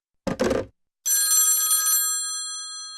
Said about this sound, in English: Stop ringing me.